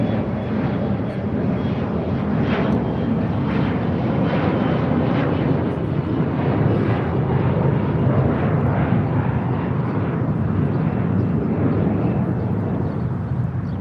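SkyWest jet taking off at LAX, a loud sustained engine roar with rising whine and rumble filling the whole stretch, faint radio chatter mixed beneath.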